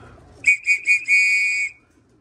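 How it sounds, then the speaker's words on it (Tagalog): A loft whistle blown to call racing pigeons home gives three short, shrill blasts followed by one long sustained blast, loud and close, with nothing else heard. "Kapag pumito tayo mamaya, siguradong papasok na yung mga yan"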